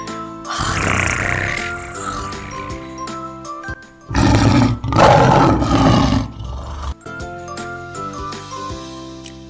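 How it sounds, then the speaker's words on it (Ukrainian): A couple of loud, deep roars burst out between musical passages, big-cat roaring up close, with music playing before and after. "Лев гаршить."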